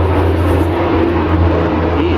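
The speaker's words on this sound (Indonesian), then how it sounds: "Ada suara pesawat." An airplane flying overhead makes a steady, loud, low droning hum that holds evenly throughout, close and continuous with no break.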